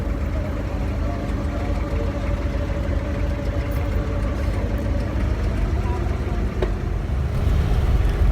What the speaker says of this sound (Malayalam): അങ്ങനെ നമ്മുടെ ബോട്ട് ഇവിടുന്ന് എടുത്ത് നമ്മളിപ്പോൾ ഇങ്ങനെ മെല്ലെ പോയിക്കൊണ്ടിരിക്കുകയാണ്